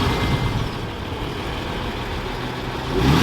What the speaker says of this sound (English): you can mostly hear the engine